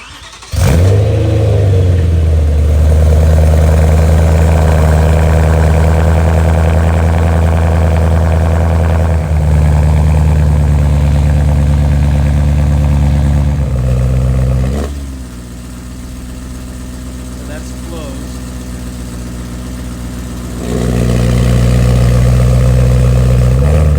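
Deep, steady exhaust drone from a BMW E90 M3 running a titanium Valvemaster quad-resonated exhaust with its valves closed, loud and close throughout, easing briefly around the middle before rising again.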